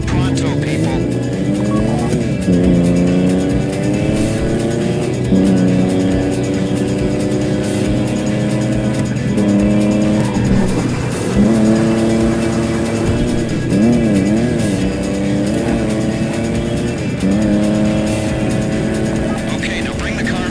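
A car engine revs and shifts through gears while driving in GTA Online during the Fleeca Job heist, loud and continuous, with the pitch repeatedly climbing and dropping and a voice talking over it.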